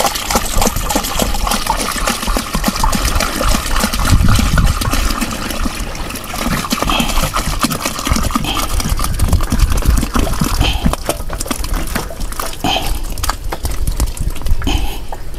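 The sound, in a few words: water poured into bionuclear fertilizer mix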